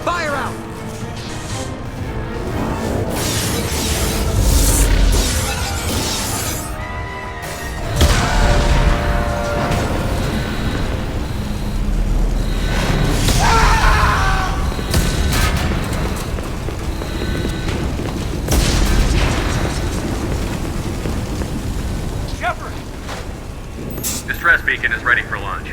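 Ship hull breaches and explosions in Mass Effect 2, with heavy rumbling booms, crashes and roaring fire throughout, loud and close, under urgent talking and shouted voices.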